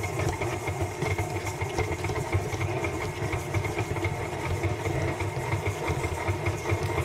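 A stand mixer creams cookie dough for chocolate chip caramel pretzel cookies, its motor giving a steady, close, continuous whir with a low rumbling hum and no talking.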